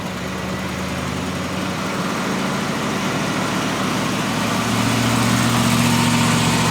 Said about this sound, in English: we're about to do a brake stand burnout with a million-mile Crown Victoria